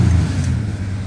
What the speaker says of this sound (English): Just drop the revs off completely.